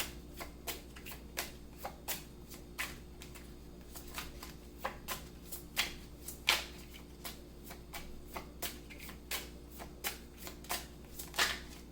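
Tarot cards being shuffled by hand, with a steady run of crisp riffling bursts at close range and no talking over them.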